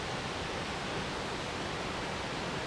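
A 10-foot waterfall on a creek dropping into a deep pool, a steady, close, broadband rush of falling water, continuous and even throughout with no voices.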